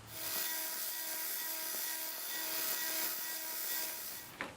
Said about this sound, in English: I started off with a 120 grit belt on the blades.